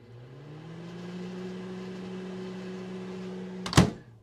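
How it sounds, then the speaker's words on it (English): Microwave oven running with its door-switch fan wobbling, giving a low steady buzz and hum for several seconds before a sharp clunk near the end. "So if you heard a buzz sound, that was just sort of the fan wobbling."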